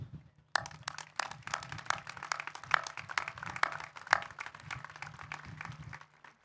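Graduation ceremony audience applauding to thank the support staff: a dense, steady patter of many hands clapping together, starting abruptly and continuing at an even level for several seconds before fading.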